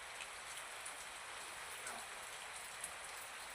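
Steady rain falls outside, a faint continuous hiss with occasional soft drops, heard alone without talk.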